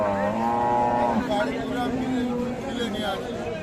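A Friesian cow gives a loud, drawn-out moo with a rising, wavering tone, close by, over a busy background of voices and crowd noise at Ambari cattle market, Dinajpur.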